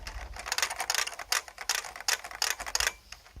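A Codegen CG-101F keyboard with Futaba clicky switches and swapped double-shot PBT keycaps being typed on, a close run of sharp clattering clicks in quick bursts separated by short pauses, with no voices.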